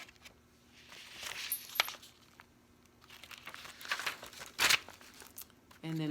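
Sheets of ledger paper for a junk journal are handled, giving intermittent crinkles, rustles and brief tearing-like bursts at close range.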